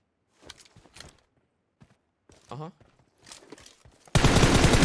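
Gunfire in a video game ends the clip as a loud, dense burst of rapid shots, like automatic fire. Before it come sparse faint taps and footstep-like sounds with a short tonal effect.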